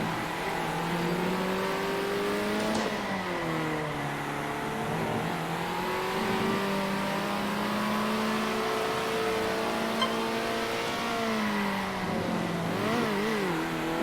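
A race car engine in the video game Circuit Superstars, revving loudly and steadily, its pitch climbing and dipping through gear changes and corners, with occasional tire squeal.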